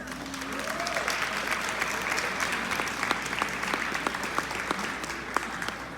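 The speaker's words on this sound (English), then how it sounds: "That's right, give a clap" An audience at a middle school Black History program breaks into applause, a steady, moderately loud wash of clapping with a few sharper individual claps, and a brief tonal sweep near the start.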